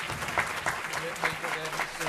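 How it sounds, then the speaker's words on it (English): A crowd at a National MS Society chapter annual celebration claps in a fairly even, moderately loud round of applause, with individual claps pulsing through and a voice speaking over it. "Everyone, another round of applause for David."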